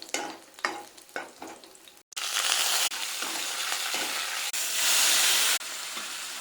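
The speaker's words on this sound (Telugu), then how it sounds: "ఇప్పుడు తాలింపు వేసుకుందాం. మిరపకాయలు వేసుకుందాం." Dried red chillies dropped into hot oil for a dal tempering burst into a loud, steady sizzle after a few soft stirring clatters, the bright hiss holding for several seconds with a brief dip midway.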